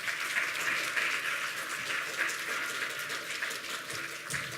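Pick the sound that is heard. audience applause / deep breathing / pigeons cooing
audience applause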